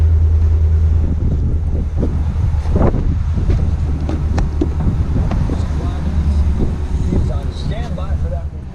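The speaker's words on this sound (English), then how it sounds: "it's like 35, 40 mile an hour wind gusts and just nasty outside" Heavy wind gusting at 35 to 40 mph buffets the microphone in a constant low roar while someone talks over it outdoors.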